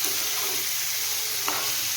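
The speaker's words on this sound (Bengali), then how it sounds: "এটাকে ভালোভাবে ভাজতে হবে।" Katol fish oil with potato and eggplant frying in a pan, a steady close sizzle with faint stirring scrapes throughout, no voices.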